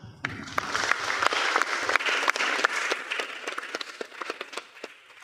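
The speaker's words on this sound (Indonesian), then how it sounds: "Tepuk tangan." Applause from an audience of prospective university students at a pre-enrollment briefing in Indonesia, a dense burst of many hands clapping that carries on steadily for several seconds, with faint speech beneath it.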